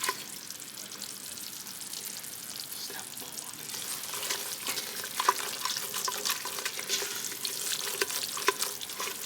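A bread flour roux for gumbo cooking in a pot, soft continuous sizzling with occasional crackles and scraping stirs, quiet and close with no talk.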